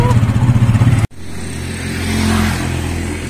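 A motorcycle weighed down with a rider and passenger aboard, its engine pulsing close by before an abrupt cut, then a smoother, steady running hum that swells slightly.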